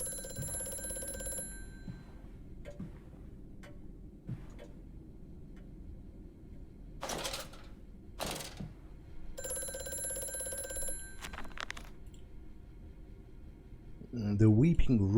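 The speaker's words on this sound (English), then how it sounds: "Okay, the phone is ringing." A telephone rings inside a mansion in the horror game Amnesia: A Machine For Pigs, with several separate ringing bursts over quiet ambience and some ticking, and someone speaking near the end.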